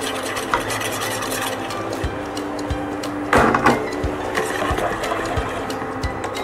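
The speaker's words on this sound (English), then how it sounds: "add ragi flour and whisk it nicely without lumps" Ragi flour whisked into boiled rice in a pot, a steady scraping, rasping stir with soft regular knocks of the whisk against the pot and a brief louder scrape midway, close and continuous.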